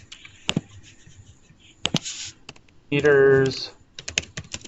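Computer keyboard keystrokes, sparse and fairly close, scattered around brief speech from a person talking.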